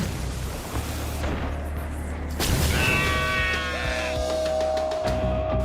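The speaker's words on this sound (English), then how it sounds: "Automatic turrets!" Bursts of automatic turret fire from Horizon Forbidden West thump and crackle over a steady game backdrop, followed by ringing mechanical tones and scattered sharp shots.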